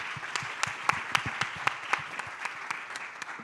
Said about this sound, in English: Let's give a big round of applause to Jorge and Renata.